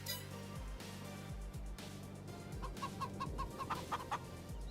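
Chickens clucking inside a coop in the farming game Farming Simulator 22, a run of short clucks that grow busier toward the end over a low steady droning hum, with no talking.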